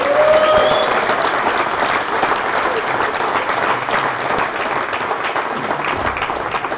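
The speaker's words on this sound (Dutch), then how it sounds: "Maar geef hem een heel groot applaus." A large audience at a Dutch Eredivisie competition event bursts into sustained, dense applause that fills the whole stretch at steady volume and slowly tapers near the end, with no speech over it.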